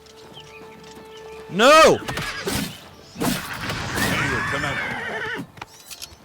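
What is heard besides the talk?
horse neighing and hooves in video game Oblivion Remastered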